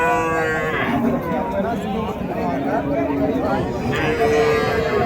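Kangayam cattle low with drawn-out moos at the start and again near the end at a busy Friday cattle market in Uthangarai, under a background of crowd chatter and nearby voices.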